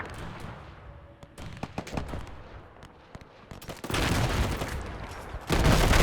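Gunfire from a WW1 battle in the strategy game Between Empires, with machine-gun fire among it: scattered sharp shots and bursts that grow into a dense, loud volley toward the end.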